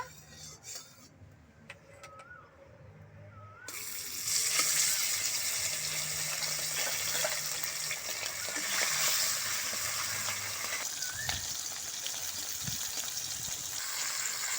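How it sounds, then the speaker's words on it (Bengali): Pond fish frying in hot oil, a loud steady sizzle that starts after a few quiet seconds of faint stirring and carries on without a break, close up and with no one talking. "তেলটা গরম হয়ে গেছে, এবারে মাছগুলো ভেজে নেব।"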